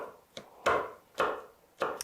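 A knife mincing garlic cloves on a cutting board: four distinct sharp chops spaced about half a second apart, close and crisp, with no talking.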